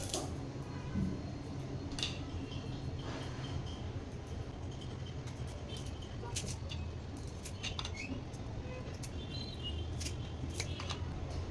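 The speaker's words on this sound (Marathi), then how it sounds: "इथे बोंबीलचे 1 का 2 तुकडे करून घेते।" Soaked dried Bombay duck fish is snipped into pieces, with a run of quiet, crisp cutting snips at an irregular pace over a low background.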